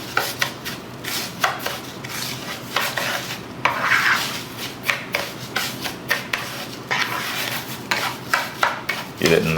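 Mediterranean side ingredients are mixed in a bowl with a utensil, producing rhythmic clinking and scraping strokes against the bowl, close and fairly loud, repeating steadily.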